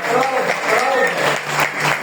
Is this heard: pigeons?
no